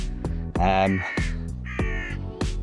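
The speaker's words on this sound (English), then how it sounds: "Okay, all right, Crow." Crow cawing outdoors: several loud, harsh caws in quick succession, close by, overlapping with voiced talk.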